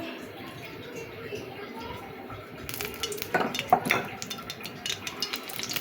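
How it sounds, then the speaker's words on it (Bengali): Quiet kitchen background gives way to a sudden burst of crackling sizzle as oil goes into a hot wok, spitting and popping, with a few clinks of metal. "কড়াইয়ে গরম হয়ে গেছে এখন আমি তেল দিয়ে দেবো"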